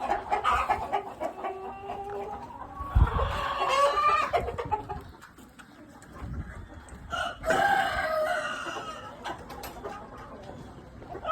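White Bresse chickens in a farm pen cluck steadily, with a rooster crowing loudly around the three- and seven-second marks, the birds close and busy throughout.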